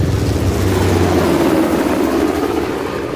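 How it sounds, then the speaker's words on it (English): A helicopter in the video game Uncharted: The Lost Legacy gives a loud, steady low rotor and engine roar with a broad rushing wash, continuous and close for a few seconds, with no talking. "How the hell did Asov get that helicopter?"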